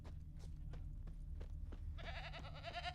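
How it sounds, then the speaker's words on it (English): A goat in the fantasy game Witcher 3: The Wild Hunt bleats a wavering call near the end, after a series of soft footstep-like taps over a steady low ambient hum. "Oh, I hear a goat."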